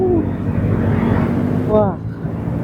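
A Honda Stylo 160 scooter accelerates on a test ride, its 160cc engine a steady rising drone under wind rush, close and fairly loud, with a brief voice partway through.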